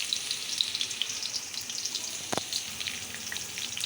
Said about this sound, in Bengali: পেঁয়াজ দিয়ে দিলাম, ভালো করে বাদামি করে ভেজে নিব।